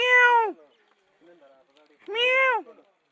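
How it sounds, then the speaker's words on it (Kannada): Two loud, drawn-out cat meows close by, separated by a pause filled with faint, scattered sounds. "ಯಾವುದು ಬೆಕ್ಕ ಟೈಗರ್ ಅದು"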